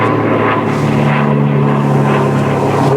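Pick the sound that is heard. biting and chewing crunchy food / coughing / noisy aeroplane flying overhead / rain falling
noisy aeroplane flying overhead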